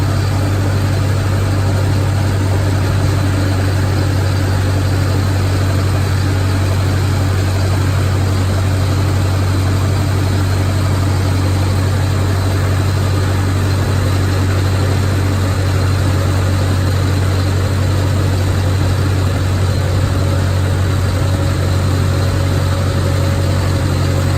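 A Farmall M diesel tractor engine running on gas and warming up, with a loud, steady close-up drone holding even tones for the whole stretch.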